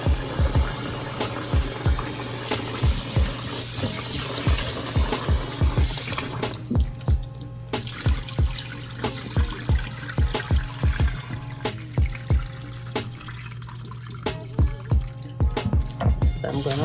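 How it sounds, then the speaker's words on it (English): Chopped goat meat is washed in water by hand, with rhythmic sloshing and dripping splashes repeating steadily, close and fairly loud throughout. "So I'm going to wash them 3 times."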